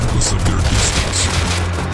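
Rapid automatic gunfire in the Rust video game, a dense unbroken stream of loud close shots lasting a couple of seconds.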